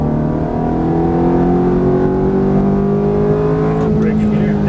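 A Ferrari F430 accelerates hard out of a corner, its engine note climbing steadily in a loud sustained drone, with a voice talking over it.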